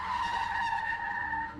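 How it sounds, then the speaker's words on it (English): Car tires squeal in one long, steady, high-pitched skid as a car spins out after losing a wheel at speed downhill, loud and continuous with no voices and no crash heard. "the car started to get the speed wobbles. And then one of the tires came flying off and rolled at high speeds downhill while the car"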